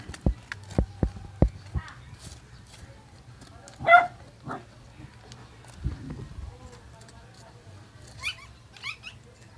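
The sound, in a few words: dogs barking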